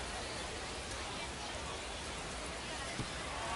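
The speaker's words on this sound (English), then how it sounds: "Rain is calming down for the meantime." Rain falls at an outdoor baseball stadium, a faint, steady hiss of drops on surfaces with distant crowd murmur underneath.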